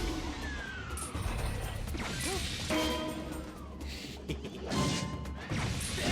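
A shield bash in the Zelda Skyward Sword HD video game, several crashing whacks and metallic impacts spread across a few seconds amid game sound effects and swishes.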